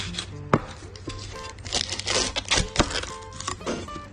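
Knife cutting the end off a garlic bulb on a board, a few short close chops and scraping taps, sharp and dry with no talk.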